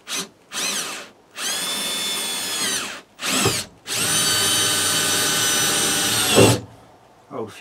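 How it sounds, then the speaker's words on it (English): A power drill drives self-tapping screws through plywood into a camper van's steel floor, whining in several loud bursts with short pauses between, the longest run lasting about three seconds, close to the listener. "as you're drilling your way and tapping your way through the steel"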